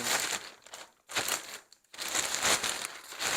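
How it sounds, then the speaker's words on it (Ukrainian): A rustling polyethylene plastic bag is crinkled and handled while a Mossberg MMR AR-15 rifle is unpacked, close-up crackling in several bursts with brief pauses between them, with no voices. "Витягуємо з цього пакета шелестящого поліетиленового."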